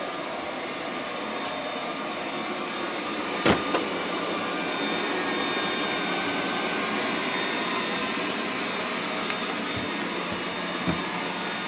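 A Liectroux B6009 robot vacuum cleaner runs with a steady, even whirring hiss throughout, broken by one brief knock partway through and a few faint clicks.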